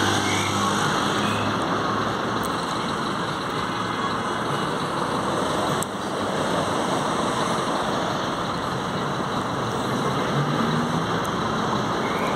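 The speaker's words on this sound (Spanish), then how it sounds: "ya salió otra unidad. Va para el ranchito del Salvador. Un Mercedes-Benz Zafiro Sport" A Mercedes-Benz Zafiro Sport bus pulls away, its engine a steady, fairly loud rumble that holds through the whole stretch with no talk over it.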